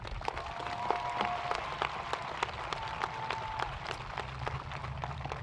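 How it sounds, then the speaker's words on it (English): An audience applauds the top 10 graduates of the class of 2026 at a Ravenna High School graduation ceremony, a steady, fairly quiet wash of many hands clapping that carries on for several seconds. "a round of applause and congratulations to our top 10 graduates for the class of 2026"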